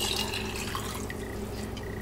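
Four cups of water pour in a steady, even stream into a kitchen blender while coconut milk is being made, a close, soft trickle with no talking.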